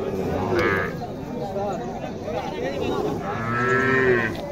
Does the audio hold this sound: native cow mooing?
yes